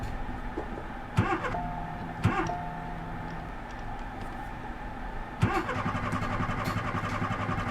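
A car engine cranks in a few short starter bursts that briefly catch and then die, leaving a steady low rumble between attempts inside the vehicle.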